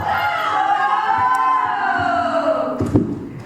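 A loud wrestling arena crowd roars and jeers steadily at a wrestler, a continuous wall of voices with a sharp thud near the end.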